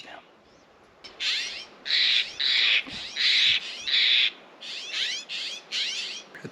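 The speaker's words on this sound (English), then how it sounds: "It's a beautiful bird. It's called a woodhouse scrub jay." A Woodhouse's scrub jay calls near Capulin Volcano in a run of harsh, raspy bursts, close and loud, with short gaps between the bursts.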